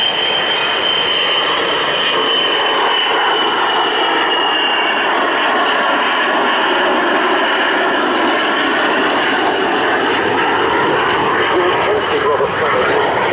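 Avro Vulcan XH558 jet bomber in a flying display at Waddington, its undercarriage down, producing a steady, loud broadband jet roar that holds throughout with a high whine on top, while a commentator talks over it.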